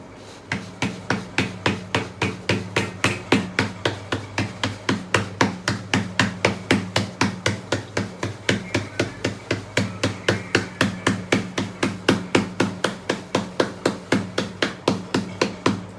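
Rice flour dough patted by hand into flatbread, a steady fast rhythm of soft slapping pats repeating about four times a second, close and even throughout with no talking.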